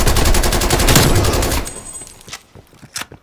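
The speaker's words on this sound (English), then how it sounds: "Multiple enemy sentry turrets active." Rapid automatic fire from an enemy sentry turret in Call of Duty: Black Ops Cold War on the Slums map, a dense, loud, steady burst that cuts off and is followed by a few fainter scattered shots.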